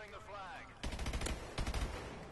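Sniper gunfire in a shooter video game cracks out in two quick bursts of sharp shots, following a short vocal exclamation, loud and close.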